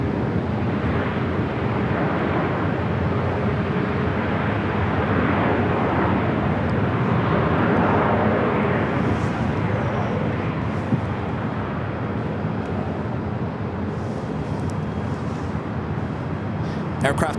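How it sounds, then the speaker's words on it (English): An Emirates Airbus A380 jet on its takeoff roll at an airport gives a steady, loud, broad engine roar that holds for the whole stretch, with some wind noise on the microphone. "this is Emirates Flight 216 heading back to Dubai in this A380 Super"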